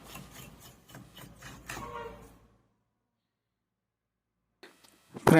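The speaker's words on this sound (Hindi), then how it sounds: "हम काम करने से पहले इसकी जो डस्ट है साफ़ कर लेंगे ब्रश की सहायता से।" A brush scrubs dust off the motherboard of a Philips induction cooker with a no-display fault, giving a close, dry rasping that comes in repeated strokes for about two seconds before it falls silent, then a brief clatter at the end.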